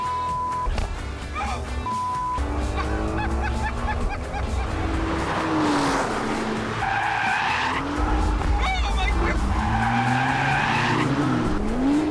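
A fast car drives hard with repeated long tire squeals and skids over a steady engine roar, loud and close, several screeching slides overlapping one after another.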